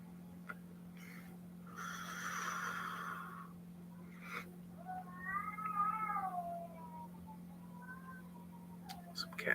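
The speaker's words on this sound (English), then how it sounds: "Some cats always fighting around this motherfucker." Cats meow and yowl in a fight, with drawn-out wavering cries and shorter calls rising over a steady low hum and faint background noise, fairly quiet and heard at a distance.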